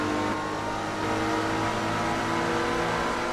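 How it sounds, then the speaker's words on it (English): A Ferrari sweeps past in Forza Motorsport 3 at Road America, its engine a steady, loud, sustained roar with no pause for the whole few seconds. "Now the Ferrari's coming past"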